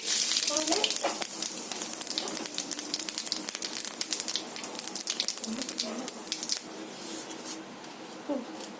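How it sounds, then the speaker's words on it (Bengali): Cumin seeds sizzling in hot oil for an egg curry, a close crackling fry with dense bursts of popping that settle into a steadier hiss, alone without talk. "তো বন্ধুরা একটু সাদা জিরে দিয়ে দিচ্ছি।"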